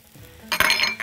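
Chopped onion and minced garlic hit hot olive oil in a pan, starting an abrupt, close, crackling sizzle with a few light utensil clinks after a quiet moment.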